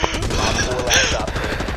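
Rapid automatic gunfire from a Rainbow Six Siege match rattles in a dense, continuous burst of closely spaced shots, loud and unbroken across the whole moment.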